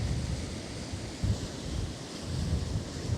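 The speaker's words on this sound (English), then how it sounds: "the wind is suddenly picking up" Strong gusty wind blowing outdoors by a river, roaring and buffeting loudly against the microphone in a continuous rush with rising gusts and no voices.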